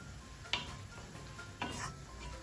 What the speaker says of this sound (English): So you just keep stirring your onions.